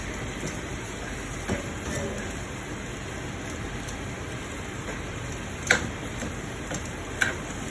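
A whisk beats sauce in a pan on the stove with light, quick rhythmic ticking, faint and close against a steady background hiss, with a couple of louder clinks.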